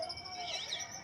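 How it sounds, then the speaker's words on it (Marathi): Birds chirp high and steady atop the Gol Gumbaz dome in Bijapur, Karnataka, a continuous bright twittering that fills the whole moment. "पक्षी बघ"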